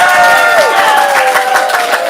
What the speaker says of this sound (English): If it's the red team, applaud now.